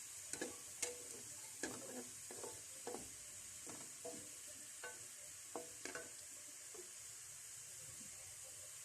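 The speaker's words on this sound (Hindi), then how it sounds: "प्याज को थोड़ा ब्राउन कर लेना है" Onions browning in oil in a kadhai sizzle faintly and steadily, broken by frequent sharp clicks and scrapes of stirring.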